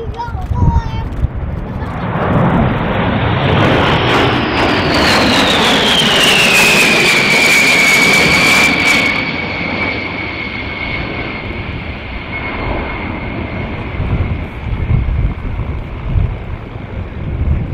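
A USAF B-52 bomber flies past at the Cosford airshow, a loud, roaring jet rumble that swells as it nears and then holds, with a falling, shifting whine as it passes, and wind buffeting the microphone.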